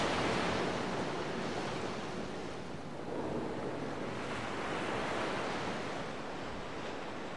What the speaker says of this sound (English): sailing on the ghost ship